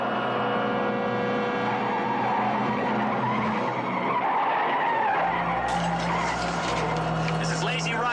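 A runaway 30-ton truck with no brakes skids with a long, loud tire squeal and roaring engine, the pitch shifting partway through, under tense voices and dramatic music.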